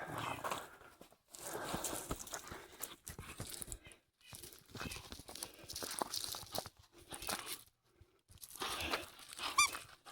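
A dog plays with a squeaky toy on a homestead driveway: irregular bursts of rustling, crunching and tearing, with sharp squeaks near the end. The sounds stop and start across the clip.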